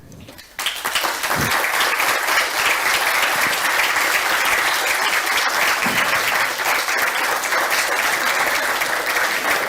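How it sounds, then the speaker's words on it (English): A large audience at an ISU graduation and opening ceremony breaks into sustained applause welcoming new Master of Science students, a dense steady wash of clapping that starts abruptly and continues loud throughout. "Let us welcome our new students with a round of applause as well."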